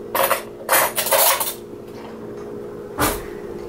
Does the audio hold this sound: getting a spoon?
yes